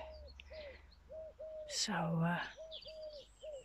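A bird outdoors in a jungle setting calls in a steady series of short repeated notes, clear and fairly near, with a brief burst of a voice in the middle.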